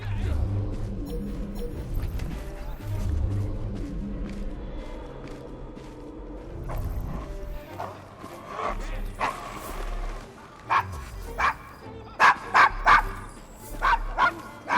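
A dog in Assassin's Creed Syndicate, in the rough Devil's Acre district of London, barks in a rapid series of short, sharp yips and woofs that grow louder toward the end over a busy street background with footsteps.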